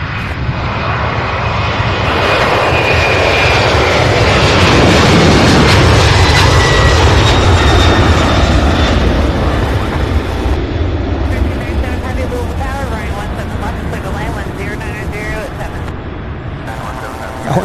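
A FedEx cargo jet at Louisville's SDF airport gives off a loud, sustained jet-engine roar that swells toward the middle and then slowly eases while staying strong throughout.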